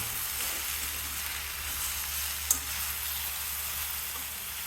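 Steady sizzling of mango frying in oil, a continuous crackling hiss at low level with no talk, broken once by a brief soft clink.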